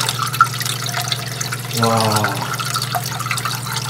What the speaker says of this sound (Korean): 일단 물을 한번 켜볼게요.